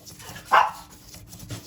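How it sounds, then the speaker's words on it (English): A single sharp dog bark at middle distance, heard once with faint background noise before and after, in a cold outdoor yard with a breezeway. "What is the dog barking at?"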